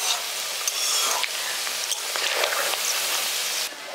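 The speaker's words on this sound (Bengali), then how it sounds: "দেখুন পকোড়াগুলো এখানে আমি লালচে করে ভেজে নিচ্ছি চারিদিকটা উল্টে পাল্টে।" Village-style vegetable pakoras frying in hot oil and being turned over, a loud continuous sizzle broken by scraping stirs and brief clinks of the utensil, with no talk.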